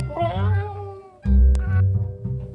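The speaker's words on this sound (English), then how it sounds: "They started meowing to be let in." Kittens meow twice in quick succession, loud and close, with plaintive drawn-out cries.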